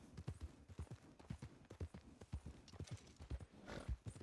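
Horse hooves clip-clop steadily in the Red Dead western video game, a quick, even rhythm of close, fairly loud hoof strikes running through the whole stretch with no talking.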